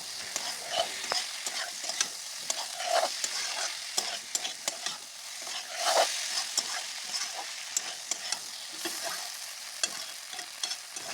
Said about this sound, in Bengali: ভালো করে নাড়াতে হবে, না হলে কড়াইতে লেগে যাবে